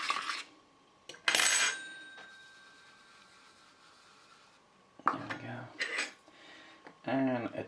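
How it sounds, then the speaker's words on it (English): A metal spoon scrapes and clinks against a bowl while mixing gelatin powder into a shrimp lolly mixture, with bursts of ringing clatter separated by quiet stretches and a faint ringing tone. "Mix the gelatin powder in."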